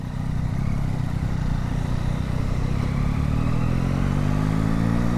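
Yamaha MT-09 motorcycle with standard exhaust under riding, a loud steady engine drone that climbs gradually in pitch as it accelerates, with wind rush and no talking.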